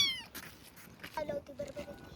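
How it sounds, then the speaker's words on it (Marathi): A kitten meows in a short series of high, wavering calls close by, the thin cries rising and falling over faint background noise. "आई हे बघा मांजरीचं पिल्लू."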